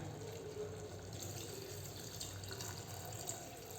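Soaking water pours steadily into a pot for mint vegetable pulao, a continuous close-up splashing rush that holds the same level throughout without pause.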